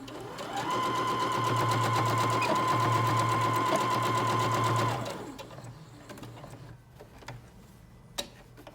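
A sewing machine back stitches over the tie of a fabric face mask, a fast steady mechanical whirr that runs loud for about four seconds, then stops, leaving quiet handling clicks and a sharp tap near the end.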